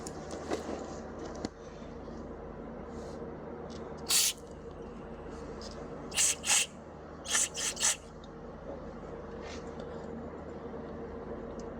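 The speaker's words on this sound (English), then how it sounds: "Put your straw and your brake clean." Brake cleaner sprayed through a straw onto a valve cover during a thread repair: several short sharp hissing bursts, one near the middle and a quick cluster after it, over a faint steady background hum.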